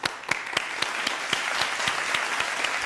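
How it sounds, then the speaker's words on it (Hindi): Studio audience at a Ramadan quiz show applauding a team, dense continuous clapping with a few sharper individual claps standing out near the microphone, unbroken and alone. "बी के लिए बहुत सारी तालियां होनी चाहिए।"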